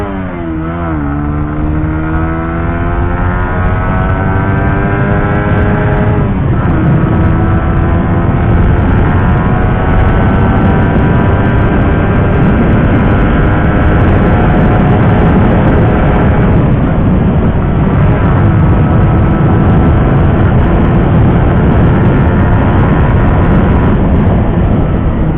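A 2020 Suzuki GSX-R 150 motorcycle ridden fast, its engine loud and near, revving up through rising whines and shifting gears in a continuous, steady roar.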